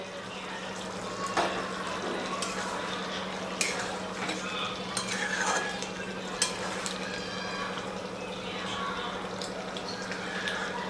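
Spoon stirring tomato into a Bihari-style mutton curry in a pot, with soft scraping and a few sharp metallic clinks against the pan over a steady low hum, no talking.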